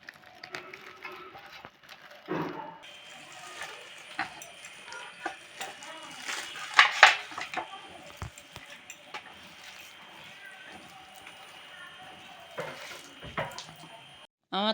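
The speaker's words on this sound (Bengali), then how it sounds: "এখানে আমি দুটো তাল নিয়েছি, তাল দুটো ধুয়ে রেডি করেছি, ছাড়িয়ে নেব। কিভাবে ছাড়াচ্ছি দেখে নিন।" Two washed palmyra palm fruits peeled by hand in a home kitchen, giving soft scraping, tearing and wet handling noises that run steadily, with a sharper burst partway through and no talk.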